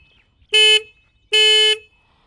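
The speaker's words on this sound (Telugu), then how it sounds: "హార్న్ అయితే కొంచెం లౌడ్ అయితే ఉంది," Two short, loud honks from the horn of a Triumph Tracker 400 motorcycle, each lasting about a quarter second and separated by a brief pause, heard up close and alone.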